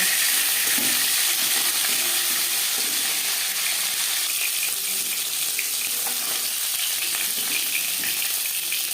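Tilapia fish pieces frying in a pan of oil, a close, loud and steady hissing sizzle with occasional spatters and crackles that continue evenly throughout.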